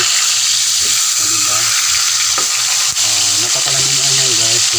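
Milkfish (bangus) frying in hot oil gives a loud, constant sizzling hiss with crackling splatters. A person talks over the frying.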